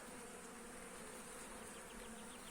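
Dense, steady buzzing of many honeybees inside an opened hive during an early spring inspection, a continuous close drone with no talk.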